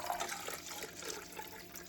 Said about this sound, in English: I'm gonna start off with some of the cold water